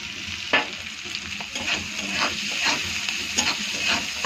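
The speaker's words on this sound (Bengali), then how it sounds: "হলুদটা দিয়ে একটু নেড়ে চেড়ে দেখো" Turmeric gets stirred into a frying pan, with soft scraping strokes and a few sharper utensil taps over a low, steady sizzle, close and moderately quiet.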